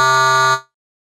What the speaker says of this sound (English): And we want to load the talkative square 8-bit wavetable.